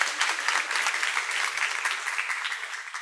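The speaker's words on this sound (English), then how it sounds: "So a round of applause for the conference." Conference attendees applaud a tech event, a moderately loud spread of many hands clapping, slightly uneven in rhythm and tapering off toward the end.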